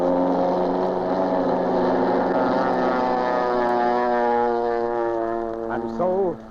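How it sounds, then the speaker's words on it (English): Propeller plane roaring through the night in an old radio drama, a loud steady droning engine with strong harmonic hum that holds for several seconds, then wavers and briefly climbs in pitch near the end. "now, into the night roars a plane piloted by a lone man"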